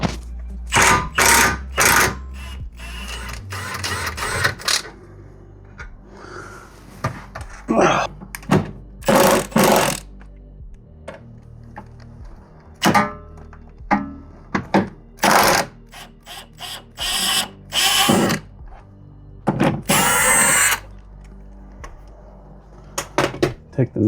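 Loosening and pulling a 19 mm strut bolt and nut on a Kia Sedona suspension brings bursts of ratcheting and sharp metallic clanks and thunks with pauses between them, close and loud, with someone speaking at times.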